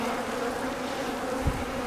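Dense, steady buzzing of many honey bees around an open hive, a continuous droning hum with a brief low thump near the end.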